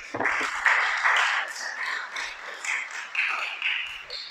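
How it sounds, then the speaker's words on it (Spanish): A congregation at a Torah teaching applauds the Creator, a dense wash of many hands clapping together, steady and fairly close, continuing for a few seconds. "Dale un aplauso al Creador."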